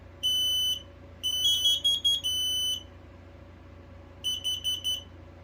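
A Kidde 900-CUAR combination smoke and carbon monoxide alarm sounds loud, piercing beeps close at hand, a single long tone followed by groups of three rapid beeps with short pauses between them.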